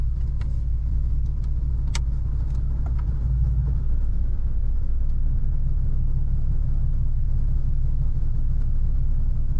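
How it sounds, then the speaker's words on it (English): A V6 Mustang fitted with a BBK 73mm throttle body idling with the AC pump switching on, a steady, close low rumble with a few faint ticks on top and no talking. "So I can hear the AC pump turn on, I can hear the AC itself turn on"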